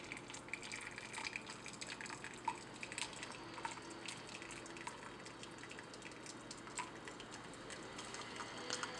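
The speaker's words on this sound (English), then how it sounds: "the water pours very quickly into the mug" Hot water trickles and drips steadily into a coffee brewer and mug, a fine irregular patter of droplets continuing without a break at a low, close level.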